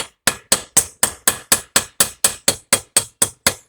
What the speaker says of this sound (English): we're going to hit the end of the metal, and the metal gradually mushrooms out.